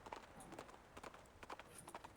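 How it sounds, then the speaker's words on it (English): Hoofbeats of a horse bolting away in the video game Reverse 1999, a quick, faint, rhythmic clip-clop pattern repeating steadily. "The communicator's noise startles the nibbling horse. It lifts its head and bolts into the distance."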